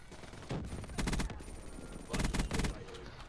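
Bursts of automated sentry turret gunfire in a combat training video game, two rapid rattling volleys a moment apart, loud and close with no talking over them.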